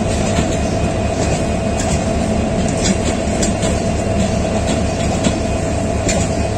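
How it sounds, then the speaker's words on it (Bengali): The Tista Express train departing, a loud close rumble of railway coaches rolling past with rhythmic clickety-clack of wheels over rail joints and occasional squeals, steady throughout with no talk. "এখন আমরা জায়ান্ট তিস্তা এক্সপ্রেসকে ছেড়ে যেতে দেখলাম।"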